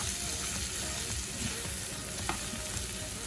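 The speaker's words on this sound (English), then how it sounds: "Add your meat, pork sausage, bacon. Just add that all in there." Pork sausage and bacon fry in a pan with a steady, quiet crackling sizzle and a faint stirring scrape.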